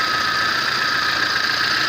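A VAZ 21099 car engine idles after repair, a steady, even hum with no stumbling, heard close and alone for a couple of seconds.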